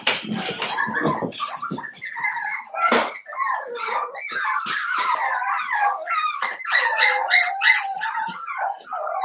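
Cavalier puppies barking and yipping in a rapid, overlapping chorus of high, excited barks that carries on steadily and close by, with no talk.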